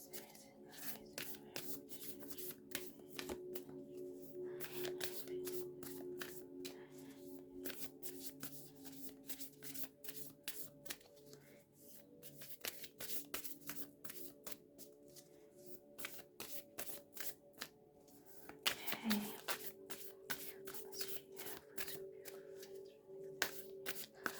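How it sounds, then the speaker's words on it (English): Starseed Oracle tarot cards are shuffled by hand in a long run of quick, papery riffles and flicks, soft and close, with a brief pause near the end before the shuffling resumes. "a Starseed Oracle card just to get your energy"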